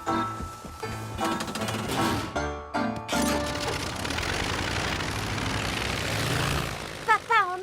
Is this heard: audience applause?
no